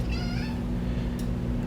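A cat lets out a sharp, wavering scream, loud and close at the start, then fades into a low steady hum with a brief click near the end; no talking.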